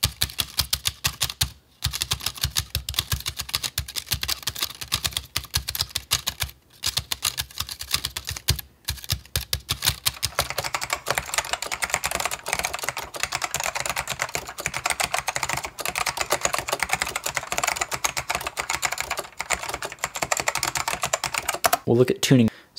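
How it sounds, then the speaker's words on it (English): Rapid, continuous clacking like a mechanical keyboard, made by keys built from post-it notes, close and busy for the whole stretch, with a few brief pauses. "using just post-it notes, it actually sounds like a mechanical keyboard"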